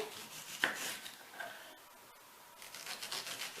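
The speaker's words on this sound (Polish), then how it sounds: "sobie tutaj całą taką cebulę jedną pokroję" Knife cutting a whole onion on a board before grilling, with a sharp initial chop followed by soft scraping and rubbing strokes, quiet and close with no talk.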